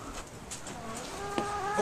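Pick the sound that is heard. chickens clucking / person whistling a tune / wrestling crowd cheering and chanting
chickens clucking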